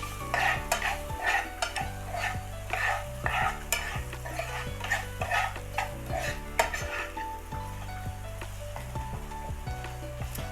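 Spiced green peas kachori filling is stirred in a pan with a spoon, giving repeated scrapes and clinks at a steady rhythm over a faint sizzle, with a low tonal hum running underneath.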